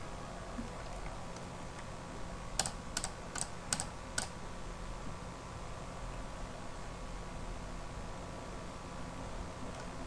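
Several quick mouse clicks in a short burst while installing TeamSpeak software on a computer, crisp and close over a steady background hiss.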